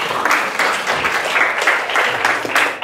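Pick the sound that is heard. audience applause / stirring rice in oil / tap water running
audience applause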